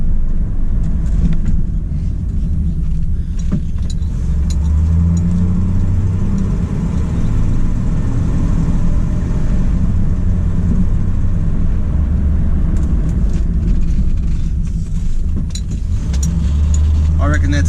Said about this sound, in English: So it's the first test drive with the new brakes.